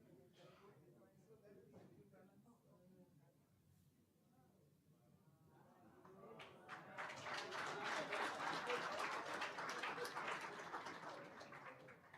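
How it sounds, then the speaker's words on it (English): At a computer society summit, an audience begins clapping after a stretch of talk and murmur, the applause swelling into loud, sustained, dense clapping that fades slightly near the end. "Please clap hands for us until we finish turning the pictures"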